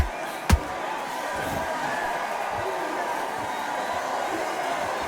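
Steady crowd murmur filling a boxing arena during the Larry Holmes versus Muhammad Ali fight, a continuous low roar with one sharp slam near the start and commentary running over it.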